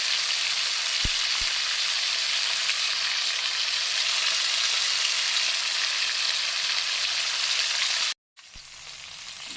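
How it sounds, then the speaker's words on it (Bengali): Pomfret fish frying in oil in a pan gives a loud, steady close-up sizzle, with a couple of brief clicks early on and a sudden short gap near the end before the sizzle resumes. "পমফ্রেট মাছ ভাজতে দিয়ে দিয়েছি"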